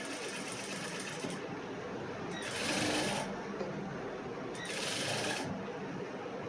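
A sewing machine stitches fabric for a cross-cut blouse in two short bursts of fast, close whirring, separated by a softer running hum.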